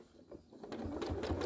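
A sewing machine stitches in a short burst, starting quietly and then building into a fast, even mechanical patter that stays close and moderately loud.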